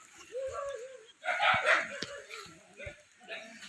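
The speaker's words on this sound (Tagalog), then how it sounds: "Yun, yung mga alaga niyang aso." Pet dogs at a rural Filipino home bark and yip in short bursts, several sharp barks amid muddy outdoor ambience, fairly close, with people talking over them.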